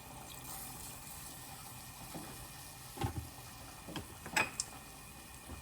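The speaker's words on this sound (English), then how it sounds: "I'm just going to add a little bit of water." About a quarter cup of water is poured into a pot of keto Tuscan chicken, giving a few quiet, brief splashing and trickling bursts over a faint background, with no talking.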